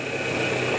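A car engine runs after a collision, producing a steady, moderately loud hum with a faint whine throughout, no talking over it.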